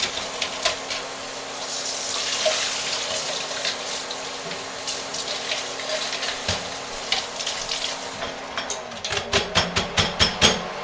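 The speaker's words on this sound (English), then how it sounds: "we're going to flush that real good and rinse all the lye water residue off of it." Running water rinses lye-water residue from a container during hot-process lye soap making, a steady close rush of flow that ends in a quick series of knocks and splashes, with no talking.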